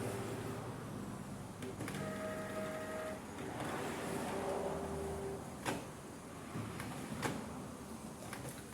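A Canon MP287 inkjet printer running a test print whirs with mechanical motor tones and clicks as the carriage and paper feed move, close by and with no voices.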